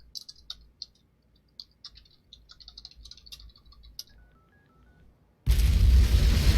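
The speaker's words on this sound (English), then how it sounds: "Just dial it." Phone dialing tones in the video game Unheard: a string of quick clicks and button beeps, then a short sequence of stepped dial tones, ending in a sudden loud burst of hiss.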